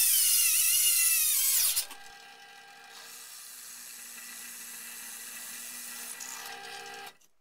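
A smaller drill bit pre-drills screw holes in a wooden workbench base frame: a loud, high whine for nearly two seconds, then a quieter, steady motor hum that stops at the end.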